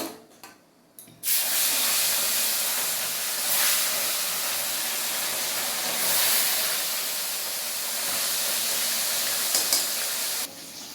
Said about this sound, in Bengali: তেলটা গরম হয়ে গেছে, এখন আমি মাছগুলো দিব।